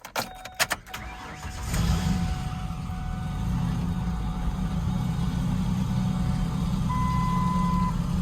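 A cheap 4x4 Ford Ranger pickup cranks with a few sharp clicks and catches at about two seconds, then runs at a steady, loud idle close by, a brief high whine coming in near the end.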